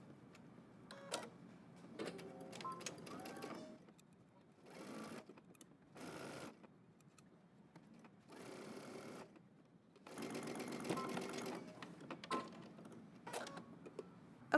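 A sewing machine stitches a seam on a garment in several separate bursts of rapid mechanical whirring and ticking, stopping and restarting between runs, close and clear, with brief handling noises in the pauses.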